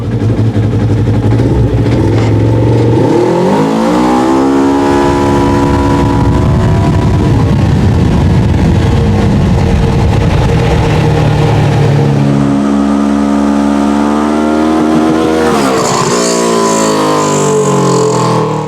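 A UTV engine revs hard at full throttle in low range, holding a loud, steady mechanical roar for most of the run, with rising and falling pitch sweeps as it accelerates, hits the speed limiter and eases off near the end.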